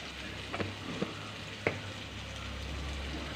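Pepper and turmeric being stirred into a coconut milk fish curry masala in a pan, a soft steady sizzle with a few sharp spoon clicks against the pan, fairly quiet, no voices.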